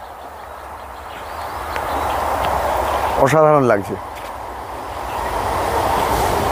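The Santragachi–Amta local train rolls into a station with a steady rumble, and a brief horn blast cuts through midway while a person talks over it.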